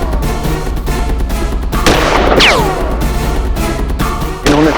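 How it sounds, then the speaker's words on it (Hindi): Gunshot fired at a person in a courtroom drama reenactment, a sharp single crack with ringing tail amid dramatic background music and ambient noise. "इन्होंने सर्वप्रथम बंसल जी पर गोली चलाई,"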